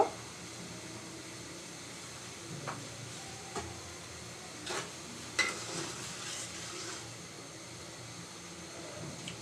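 Whole cinnamon sticks, a torn bay leaf, cardamom pods and cloves sizzle quietly in hot fat in a pan for rice-flour halwa, a soft steady crackle broken by a few faint clicks and stirring taps.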